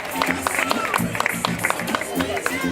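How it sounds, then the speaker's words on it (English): An audience applauds a student at a school word parade, with quick scattered claps over crowd murmur and a voice speaking through it. "Let's give her a round of applause."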